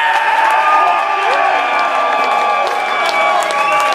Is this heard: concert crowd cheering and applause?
yes